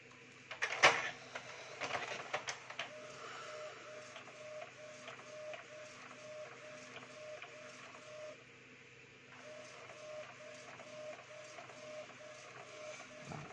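An Epson L310 inkjet printer prints a test page: a sharp mechanical clack at the start, then steady rhythmic whirring and the regular ticks of the print head shuttling back and forth, fairly quiet and close.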